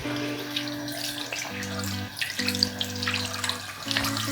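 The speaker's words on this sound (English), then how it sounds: "stick your brush under like tepid water" Lukewarm tap water runs steadily over a makeup stippling brush under a faucet, a soft continuous splashing stream with a low electrical hum running beneath it.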